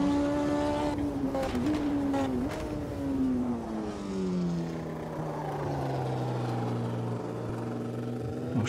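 A Brabham BT52 racing car engine in the video game Automobilista 2 roars continuously, its pitch rising and falling through gear changes, then sliding down into a lower, steady drone.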